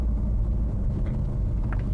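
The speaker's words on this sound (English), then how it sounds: "it does have that obnoxious burble tune that a lot of people hate with BMWs" A BMW M3 in Sport Plus mode with its exhaust valves open gives a deep, steady low rumble from inside the car, with faint pops and crackles of burble near the end.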